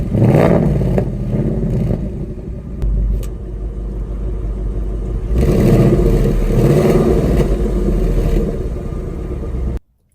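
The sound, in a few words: 2019 Ford Mustang Bullitt exhaust switching from normal to quiet mode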